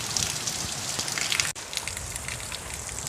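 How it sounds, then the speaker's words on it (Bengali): Steady rain falls on surfaces in a dense, continuous hiss with scattered drop patter, moderately loud and without voices. "আমি বৃষ্টি কমছে না এখন, দেখেছো অবস্থা।"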